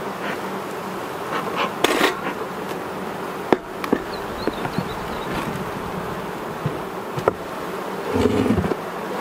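Honey bees buzzing around an open hive after puffs of smoke, a dense, steady near swarm hum with a few bumps and knocks from hive handling, and no talking.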